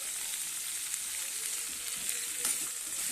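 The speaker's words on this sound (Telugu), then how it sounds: "కొంచెం అంతా నూనెలోని వీటిని వేయించుతానండి" Cumin and other spices sizzle and fry steadily in hot oil in a home kitchen pan, a constant close crackling hiss with no pauses, prepared as the base for a tangy tamarind fish curry.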